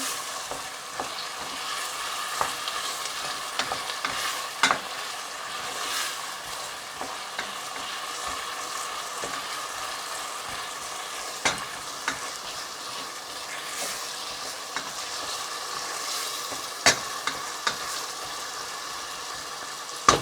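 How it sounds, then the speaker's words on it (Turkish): Potatoes sizzle steadily in a hot pot with olive oil while a utensil stirs and scrapes now and then, close by, with no talking. "1-2 dakika patates kavrulsun."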